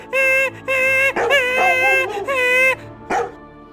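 A dog whimpers and cries in a series of high, wavering yelps, loud and close, one after another with short gaps between them.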